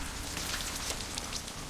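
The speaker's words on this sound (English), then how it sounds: "it started raining the minute I put my coat and shoes on" Rain falls outdoors in a steady, close patter of drops on surfaces, an even hiss with no break or voice over it.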